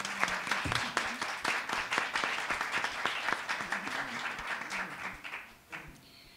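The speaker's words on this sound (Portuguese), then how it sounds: "eu vou pedir uma salva de palmas agora para o Flávio." Audience clapping at a lecture about blind people and books: a steady, dense round of applause lasting about six seconds at moderate distance, tapering off at the end.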